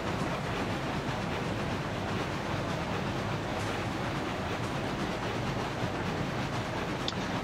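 A consist of six steam locomotives pulling twenty oil tankers on a steep 4% grade in Railroads Online gives a constant, heavy rolling rumble and chuffing wash, close and unbroken, without any speech.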